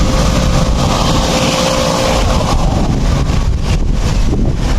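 Strong wind buffeting the microphone, a loud continuous rumbling roar with gusty swells and no voices.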